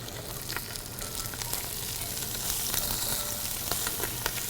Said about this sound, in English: And then you add your onion.